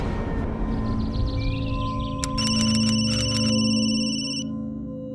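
A phone ringtone chirps in repeated electronic beeps over a steady low hum, close and moderately loud, ending after about two seconds of ringing.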